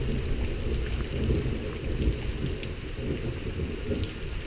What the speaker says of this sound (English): it has been thundering and lightning and raining like I'll get out all night long